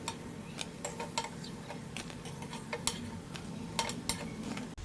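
Rava punugulu, small semolina fritters, sizzle in hot oil with a steady crackle, broken by sharp ticking taps and stirring clicks close by, without any talk.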